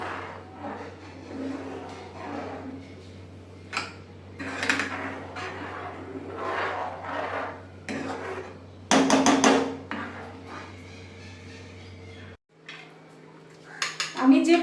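Rice being stirred into milk in a pot for Bengali payesh, with a ladle clinking and scraping against the metal in irregular knocks over a low steady stove hum that cuts off near the end.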